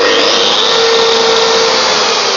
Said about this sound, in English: So if I turn it on, you could probably hear the vacuum turn on